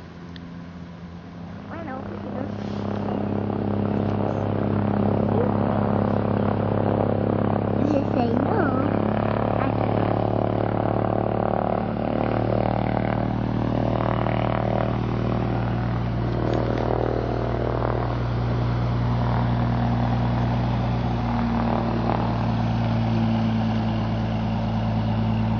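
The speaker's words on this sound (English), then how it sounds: "That's a fighter jet, and I don't know what it's doing here." A parked fighter jet at an airport rumbles with a steady, loud engine drone that holds without a break, with distant activity faintly mixed in.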